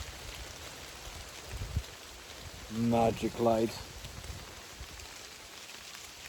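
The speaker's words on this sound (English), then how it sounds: "As you can hear, it's still raining." Steady rain hisses outdoors in a wet, mushroom-growing setting, a constant soft patter throughout while someone speaks briefly in the middle.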